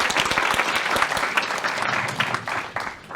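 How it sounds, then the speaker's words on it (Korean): An audience claps together in dense, even applause for about three seconds before it thins slightly, close and loud. "예, 박수."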